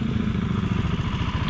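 A KTM motorcycle engine drones close by on a muddy trail ride, rumbling with a steady throbbing rhythm and some clattering throughout.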